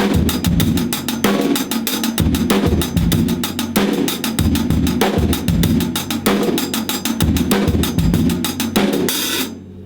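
A 16th-note drum groove in 4/4 plays alone, with double kick hits on the pedal, a steady snare backbeat and busy sixteenth-note hi-hats, looping evenly for the whole stretch and cutting off at the end.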